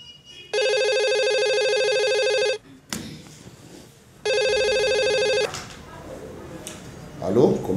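A telephone rings in two long electronic trills separated by a pause, loud and near, with faint rustling and movement between and after the rings.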